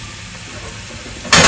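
Sliced onions sizzle as they are sautéed in a pan for a coconut-free theeyal, a steady soft frying hiss that swells into a loud, bright sizzle near the end.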